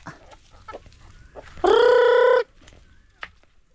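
A single loud, drawn-out chicken call rises out of quiet barnyard noise, with a few faint scattered sounds before and after.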